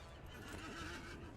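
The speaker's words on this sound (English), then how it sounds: "Let's jump on a horse." A horse neighs in the video game LOTRO as a character mounts up, a single short whinny over faint hoof clatter and game ambience, fairly quiet.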